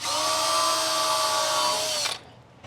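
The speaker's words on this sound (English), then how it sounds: "just drill a hole and Drill a hole and then screw it in" A power drill bores holes in metal sheets for custom-fitted garden beds inside a dome, giving a steady high-pitched whine close by for about two seconds before it spins down and stops abruptly.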